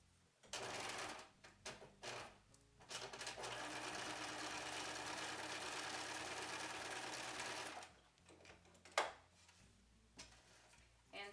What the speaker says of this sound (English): stitch the Velcro onto the lining on both sides, like this